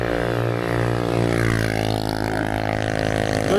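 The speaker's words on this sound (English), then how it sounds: "This area has some noisy motorbikes." Noisy motorbike engines drone steadily in a Kenyan village, a continuous mid-pitched rumble with shifting tone as the bikes pass nearby, with no talking.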